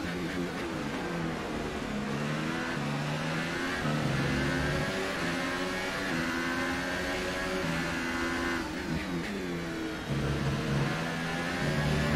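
A McLaren Formula 1 car with a Ferrari power unit in the F1 2018 game at the Spanish Grand Prix, its engine screaming loud and close as it revs up and down through gear shifts, continuously.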